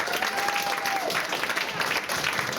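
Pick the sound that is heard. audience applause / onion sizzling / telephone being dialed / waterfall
audience applause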